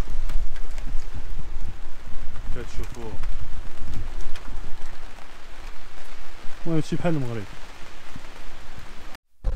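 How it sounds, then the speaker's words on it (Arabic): Heavy rain pours steadily onto a street in Belgium lined with Moroccan shops, a constant loud hiss throughout while someone talks over it close by. "هاد بلجيكا بزاف كاينة الشتا هنايا"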